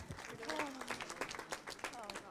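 Scattered audience applause at a community input meeting, soft and somewhat distant, mixed with overlapping voices talking at the same time.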